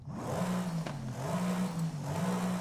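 Mercedes-Benz E63s engine in Forza Horizon 5, a raspy intake drone revving up and down in steady waves, loud and close, heard alone with no talk.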